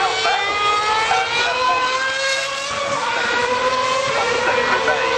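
Romain Grosjean's Formula One car at the 2012 Silverstone race, a loud high-pitched engine scream holding close and steady with slight pitch shifts as it accelerates, with no clear talk over it.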